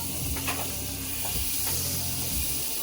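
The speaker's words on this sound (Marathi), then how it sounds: "पनीरचे काप टाकून घेते म्हणजे बटर जाळणार नाही." Paneer slices fry in butter in a pan, giving a steady close sizzle with brief stirring scrapes and no talking.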